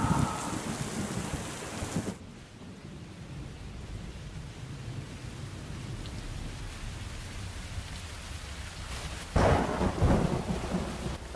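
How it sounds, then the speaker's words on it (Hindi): Heavy rain pours down in a steady, dense hiss, with thunder rumbling through it and a sharp, loud crack of thunder bursting in near the end. "ऊपर से बारिश भी है जो रुकने का नाम नहीं ले रहा है।"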